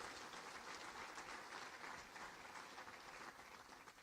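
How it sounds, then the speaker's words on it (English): An audience at a county executive's State of the County address gives a sustained, even round of applause, heard somewhat distantly and without speech. "Please give them a round of applause."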